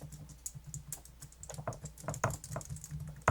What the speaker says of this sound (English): That's actually a nice looking keyboard.